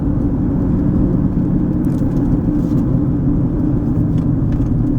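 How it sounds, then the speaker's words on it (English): A car drives along a town street in Aliquippa, Pennsylvania, giving a steady, close interior rumble of engine and road noise that holds even and unbroken, with no voices. "We're going to take a drive up Linmar now."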